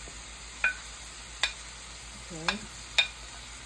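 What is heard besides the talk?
codfish sauteing with seasoning in a pan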